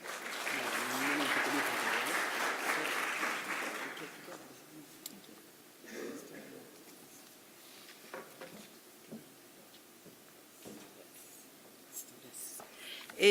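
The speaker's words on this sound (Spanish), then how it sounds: "Recibámosla con un fuerte aplauso" Audience applause at an anthropology forum welcomes a speaker, a dense, fairly loud burst of clapping for about four seconds that stops abruptly, followed by quiet room sounds and scattered small noises.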